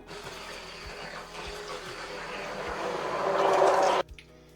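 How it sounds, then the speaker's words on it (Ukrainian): A motorized blender whirs steadily while pureeing hot squash spread, its pitch rising and straining as it works, then cuts off abruptly near the end. "Гарячу ікру необхідно перебити блендером до одноїдного стану."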